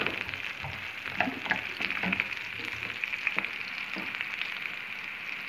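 Sliced onions fry in a pan while being stirred, producing a steady close crackle with intermittent spatula scrapes and clicks and no voices.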